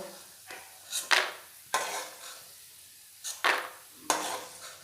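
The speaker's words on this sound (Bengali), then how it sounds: "এদিকে কড়াইয়ে আমি সবজিগুলো ভেজে নেব" Vegetables frying in a wok, a spatula scraping and tossing with a soft sizzle beneath, irregular strokes close by, with no voices.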